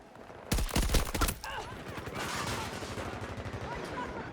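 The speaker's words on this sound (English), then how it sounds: "can't fire this gun at full auto. You have to burst it." An AK assault rifle in Battlefield 2042 fires a loud, rapid, controlled burst lasting under a second. It is followed by a steady, rumbling battlefield din with faint distant activity.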